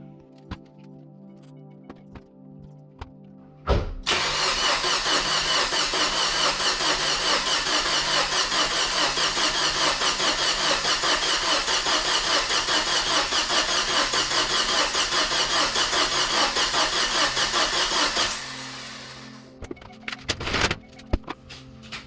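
Suzuki Forenza being started after a head gasket repair: after a quiet lead-in, the engine cranks loudly and continuously for about fifteen seconds with a rhythmic churning pulse, then stops, followed by a few scattered clicks and knocks.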